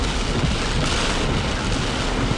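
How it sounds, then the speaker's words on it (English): Heavy rain pounding a car during a severe thunderstorm near Ankeny, heard from inside: a dense, loud, continuous roar of drops on the roof and glass with no breaks or talking. "here comes the rain."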